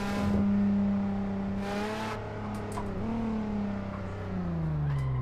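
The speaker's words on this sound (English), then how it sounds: "I love how this car sounds too." A loud Nissan 400Z drift car engine revs steadily on a track, its pitch rising and falling through sustained harmonic drones, with tire and exhaust noise layered over the running motor.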